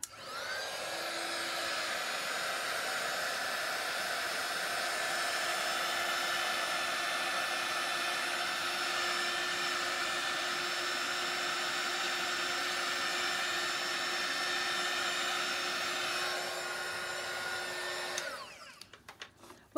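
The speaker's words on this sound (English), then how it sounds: "We know that the heat tool works" An electric heat tool blows steadily over an acrylic paint pour, a loud, continuous airy whoosh with a constant motor whine that holds for about eighteen seconds before cutting off, followed by a few small clicks.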